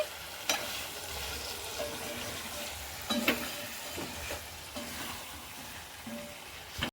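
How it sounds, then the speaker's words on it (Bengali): Chicken curry with cashew paste being stirred gently in a pan, a soft steady sizzle broken by a few sharp scraping strokes of the spoon against the pan. "হালকা করে নেড়ে নিচ্ছি"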